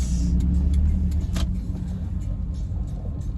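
Cars pass in busy road traffic in the Philippines, a close, loud engine drone and tire rush that fades slightly as the vehicles go by.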